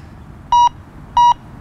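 Two loud, clean electronic beeps from a JRC XTX carp fishing bite alarm at high volume, evenly spaced, each lasting a fraction of a second against a quiet background.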